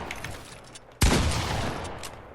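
A gunshot in a box-fight match of a video game: one sharp, loud report hits partway through, followed by a sustained roar that fades slowly, with a quieter, busy game soundscape before it.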